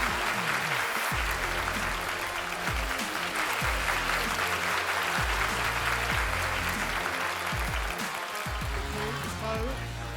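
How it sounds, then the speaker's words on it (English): An audience applauds at a talk on recession, a full, continuous burst of clapping held steady for about ten seconds while someone speaks over it. "the most massive round of applause for Mr. Ranjan Bhattacharya"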